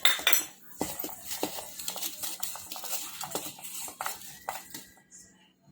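A spoon clinks and scrapes steadily against a bowl while mixing peanuts with rice flour for crispy spiced peanut bhujiya, a continuous busy clatter with sharper knocks at irregular intervals.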